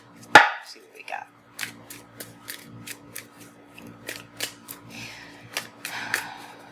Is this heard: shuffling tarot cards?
yes